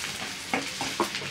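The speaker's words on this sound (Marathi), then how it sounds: "कांदा छान लाल झाला आहे, त्यात मी आता वाटलेलं वाटण टाकून घेते।" Spice paste dropped into fried onions and curry leaves in a pan for a mixed dal, giving a soft steady sizzle with a few short bursts of stirring and spluttering, close and fairly quiet.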